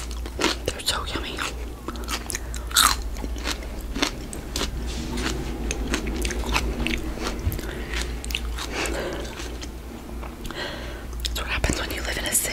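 Close, crunchy bites and chewing of green beans eaten with hummus, repeated sharp crunches over steady low city background noise, with soft whispering throughout.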